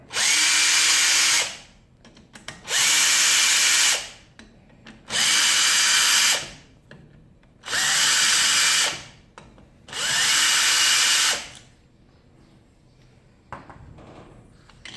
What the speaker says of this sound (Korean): 그런 다음에 볼트 6개를 풀어주시면 됩니다.